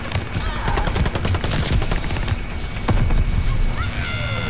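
Dense, continuous gunfire from Call of Duty: Vanguard Hardpoint multiplayer, with rapid overlapping automatic bursts and sharp shots at close to mid range, loud and sustained throughout with a voice talking over it.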